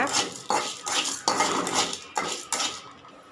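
Chana dal and urad dal roast in oil in a pan, stirred with a metal utensil that scrapes and clatters against the pan in several close, loud strokes with short gaps between them, with no talk.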